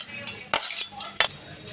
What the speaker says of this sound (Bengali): খালি কড়াই বসিয়ে দিয়েছি